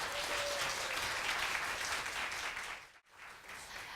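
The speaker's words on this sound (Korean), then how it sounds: "다시 한번 박수 부탁드릴게요" Dense, steady applause from a seated audience at a morning Korean traditional music concert, a full wash of clapping that briefly dips and then swells again.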